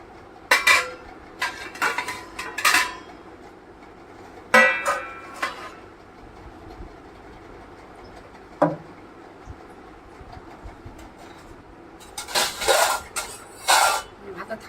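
Dishes and cutlery clink as rice is served onto plates in a home kitchen, with scattered knocks and scrapes in short clusters while someone talks throughout.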